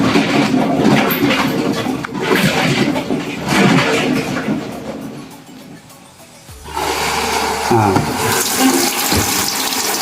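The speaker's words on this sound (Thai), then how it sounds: "น้ำเข้านะครับ น้ำเริ่มเข้าแล้ว" Water rushing into a washing machine drum after starting a cycle, a loud steady gushing flow that dips briefly then surges back strongly, heard close up without speech.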